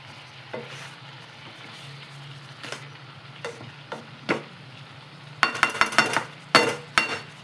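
Meat for caldereta frying in a small pan, a quiet sizzle under occasional clicks and stirring scrapes, with a burst of sharper metallic clinks near the end.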